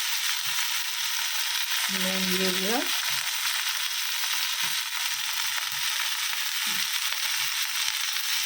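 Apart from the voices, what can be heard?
ginger cumin paste frying in pan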